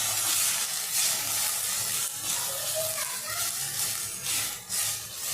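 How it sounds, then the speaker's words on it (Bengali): Grated ginger frying in a pan for a potato and green pea dum curry, giving a steady, close sizzling hiss that swells and fades slightly, with no talk. "এরপর আমি গ্রেট করে রাখা আদা যোগ করছি এবং এটাকে খুব ভালোভাবে আমি একটু ভেজে নিচ্ছি।"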